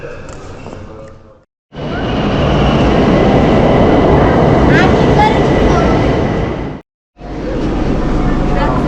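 Loud, steady rumbling roar of a Tehran metro train in motion, continuous and close, with occasional squeals and a couple of abrupt breaks; faint voices underneath.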